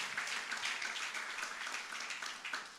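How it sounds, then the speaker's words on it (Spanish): A church congregation applauds together during a Spanish-language sermon, a dense, steady burst of clapping from many hands heard up close and filling the whole moment. "Dele una fuerte ofrenda de aplauso al Señor."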